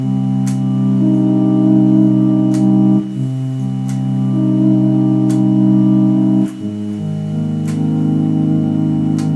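An EWI wind controller in slur sustain mode builds stacked synth chords, sustained tones layering into one another and shifting harmony twice, played alone with no talking.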